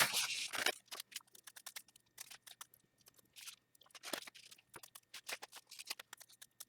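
Scissors snip through scraps of paper being cut into small shapes for a handmade card, a quick irregular run of crisp close-up cuts and rustles with short pauses, and no talking.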